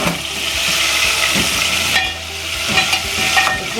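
Damp washed chicken pieces stirred in very hot oil, frying with a loud, dense, continuous sizzle and hiss, close up, with occasional stirring scrapes and brief swells, no voices over it.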